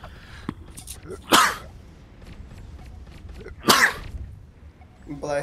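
Two sharp sneezes burst out about two seconds apart over quiet background talk and movement in a casual gaming session, each loud and close with a breathy onset.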